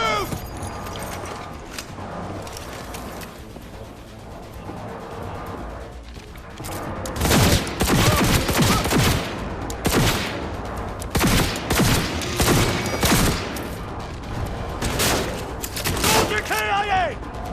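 Heavy gunfire erupts in the video game Cyberpunk 2077, starting with sparse shots and building into loud, dense volleys and bursts over the second half, amid game sounds and voices.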